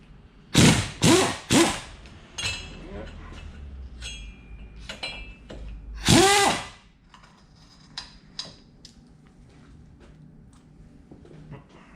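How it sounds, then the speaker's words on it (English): An impact wrench loosens cartridge bolts on Showa 43mm motorcycle forks in three quick, loud rattling bursts, then one longer burst, followed by quieter metallic clinks and tool handling. "sometimes a quick zap with the rattle gun is enough to get them to move."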